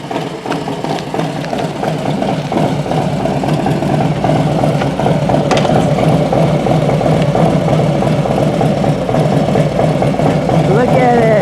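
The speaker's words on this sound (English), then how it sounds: "look at that motorcycle. I kept hearing it" A motorcycle engine runs steadily at close range, a continuous mid-pitched rumble that holds for the whole stretch along a road during a bicycle ride, with talk over it.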